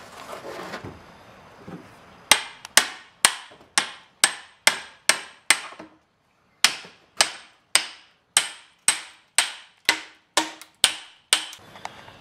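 Close, sharp hammer blows ring out one after another at a steady pace, splitting and squaring a wooden blank for an ox driving stick, each knock decaying quickly, with a short pause partway through.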